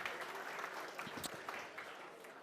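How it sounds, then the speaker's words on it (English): Faint applause from a crowd at a Melbourne Cup tour event at The Wharf, Port Fairy; steady clapping heard from a distance and fairly quiet throughout. "another round of applause for Dr. Andrew Lemon and Des Gleeson"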